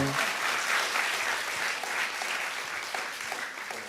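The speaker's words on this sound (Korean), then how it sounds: "박수 한번 주세요" Steady applause from a studio audience at a Korean talk show, even and continuous, fading slightly toward the end.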